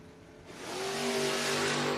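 Drag race cars, a Nova and a Firebird, launching at a no-box 660 shootout, with the engines rising from a low rumble into a loud, sustained roar that builds and holds close by.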